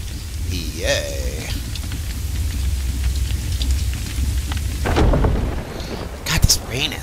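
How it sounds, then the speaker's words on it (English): Steady rain with deep rolling thunder in the video game Resident Evil 4, a constant wash of rainfall under a low rumble, with a person talking over it at times. "this rain is getting annoying me"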